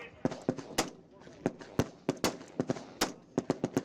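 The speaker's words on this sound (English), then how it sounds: "Educators, you may commence firing now. 10 rounds, 60 seconds." Educators fire guns at an outdoor shooting range, sharp cracking reports in an uneven series of over a dozen shots, some near and loud, others overlapping.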